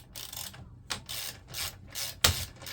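A wrench ratchets while loosening the axle nuts on an electric bike wheel, producing short rhythmic clicking bursts in quick succession, close up, with a sharp clank near the end.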